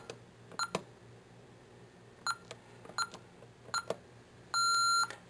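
Short electronic keypad beeps from an alarm panel as a 4-digit code is entered and the away mode selected, several separate tones followed by one longer sustained beep, close and clear over a quiet room.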